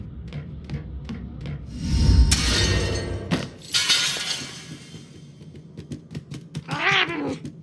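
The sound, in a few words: cat in video game Murdered Soul Suspect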